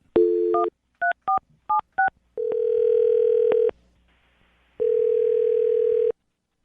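A phone number is dialed on a telephone: a loud steady dial tone, then a quick run of separate beeping keypad tones, followed by longer steady ringing tones with silence between them.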